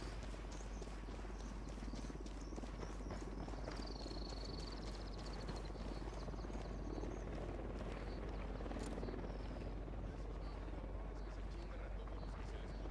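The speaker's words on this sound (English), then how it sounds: "Who need that chopper? Stay low." Helicopter rotor chop in the Ghost Recon Wildlands shooter game, a steady loud thrumming that fills the whole stretch under game effects and occasional chatter.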